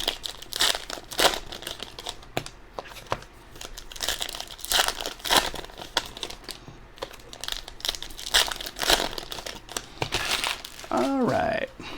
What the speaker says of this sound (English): I am flipping cards all over